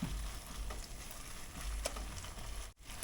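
Chicken tikka masala curry with tomato puree mixed in cooks in a pan on a Ninja Woodfire, sending out a steady close sizzle with a few faint stirring scrapes.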